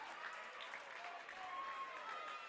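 Watertown fans at a Class C state baseball tournament applaud and cheer, a steady, fairly distant wash of clapping from the stands lasting throughout.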